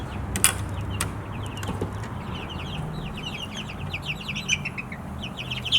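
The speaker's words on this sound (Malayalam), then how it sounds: "നമ്മുടെ കോഴിക്കുഞ്ഞുങ്ങൾ എല്ലാവരും വലുതായി കഴിഞ്ഞ് കഴിയുമ്പോൾ എല്ലാവരും ഡോറിൻ്റെ അടുത്താണ് നിൽപ്പ്." Grown chickens crowd by the coop door, clucking and chirping in a steady, busy chorus. Bright calls keep rising over a constant low background, and nobody speaks.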